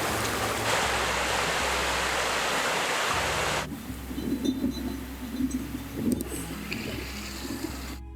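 An Alaskan creek rushes along in a steady, close broadband wash of flowing water, which then drops to a quieter, gentler burble with some nearby movement.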